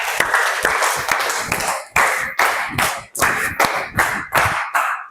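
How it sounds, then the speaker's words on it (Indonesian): Pupils in a classroom clap together in a rhythmic patterned sequence, sharp hand claps grouped in bursts with brief pauses, loud and close, repeated several times. "Tepuk segitiga 4 kali."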